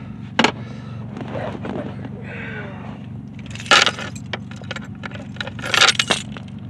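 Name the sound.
keys jangling while removing them from a 1986 Bronco II ignition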